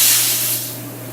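Pressurized nitrogen hisses steadily into a fire extinguisher through a recharge adapter, a loud, close rush of gas that tapers slightly over about a second.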